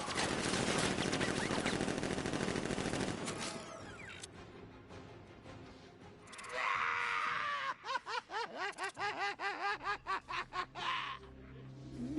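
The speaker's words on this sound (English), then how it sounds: "Open fire! Shoot everything, now!" Rapid automatic gunfire from the video game Batman Arkham Knight bursts loudly at first and then fades. Later, a rhythmic series of sharp effects pulses alongside cries and laughter-like voices.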